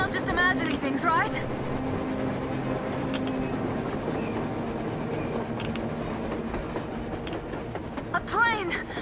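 A train passes across the surface in the Metro Exodus video game, a steady rolling rumble with rail clatter and scattered metallic squeals, while voices talk over it.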